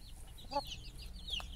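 A hen gives a couple of short, soft clucks nearby in a quiet farmyard, with faint chirps around them.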